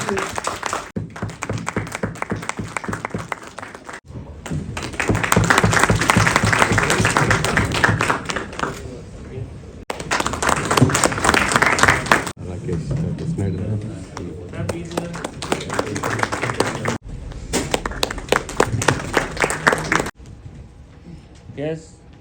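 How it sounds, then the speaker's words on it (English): An audience at an electric vehicle fast-charging summit in New Delhi claps for the speakers. The applause is loud and sustained, comes in several bursts with brief pauses, and voices speak over it. "A big round of applause for honors esteemed speakers, please"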